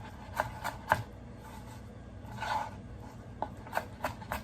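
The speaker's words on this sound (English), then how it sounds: "So let's just go ahead and get this onion finely minced" A knife chops onion on a cutting board, a few sharp close taps in irregular clusters separated by quieter scraping gaps.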